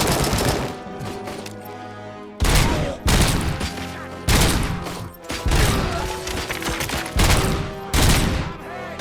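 Gunfire in RoboCop: Rogue City, with a series of loud, close bursts of shots separated by short pauses, the sharp blasts landing at fairly regular intervals over a busy game soundscape.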